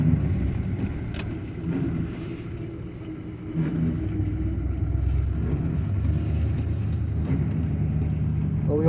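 An old car, first started after 20 years and with bad brakes, drives slowly with a low, steady engine rumble heard from inside. It dips briefly and then carries on, with faint knocks and rattles.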